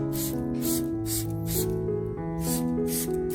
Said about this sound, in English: Spraying the garlic tomato solution provides many wonderful benefits for the plant